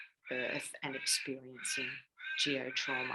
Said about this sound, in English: We can actually hear a lot of crows in the background as we speak.